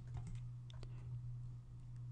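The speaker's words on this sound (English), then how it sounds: "click label control, type in element numbers" Someone types element numbers on a computer keyboard while working in Patran engineering software, giving a short run of faint, soft keystrokes over a steady low electrical hum.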